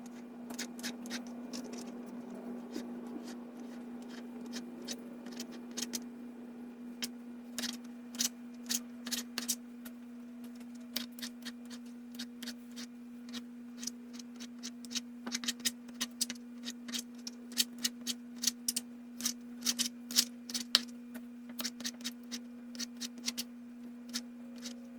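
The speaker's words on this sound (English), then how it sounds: "Now the rest of the tomato is ready for slicing" A knife cuts through a tomato for a seven-layer dip, giving a long run of quick, crisp slicing ticks and board taps close by, over a steady low hum.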